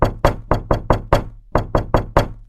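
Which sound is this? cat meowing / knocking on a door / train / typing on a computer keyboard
knocking on a door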